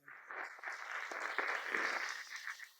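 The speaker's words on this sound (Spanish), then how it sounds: "Aplausos en la sala" Applause fills a lecture hall after a talk on trees, forests and water management, a moderate, steady patter of many hands clapping without speech.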